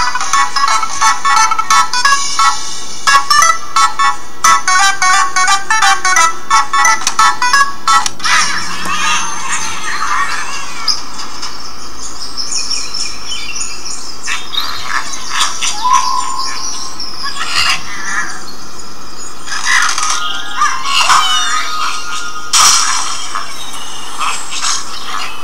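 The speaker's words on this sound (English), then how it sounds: "This is Angry Birds Seasons." Chirpy bird calls, jingles and game effects from Angry Birds Seasons play on an HTC HD2 phone, busy and musical at first, then sparser squawks and tones with short gaps.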